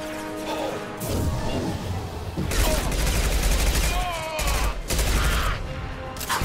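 Gunfire crackles in loud bursts during a Mass Effect 2 firefight, punctuated by heavy impacts and crashes, with voices speaking amid the combat.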